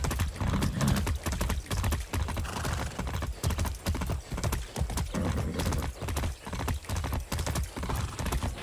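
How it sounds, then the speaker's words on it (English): Horse hooves in Far Cry 6 beat out a close, steady clip-clop gallop throughout, with a whinny rising early on and faint speech slipping in briefly. "That's a good horse."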